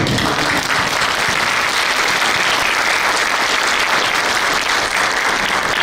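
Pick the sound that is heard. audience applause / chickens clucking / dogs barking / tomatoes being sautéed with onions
audience applause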